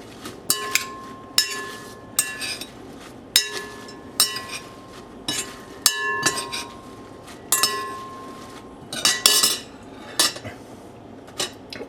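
Ingredients with thyme and granulated garlic being mixed in a bowl for an asparagus tart, heard as sharp, repeated clinks and scrapes of a metal utensil against the bowl in an uneven rhythm, close and with no talking.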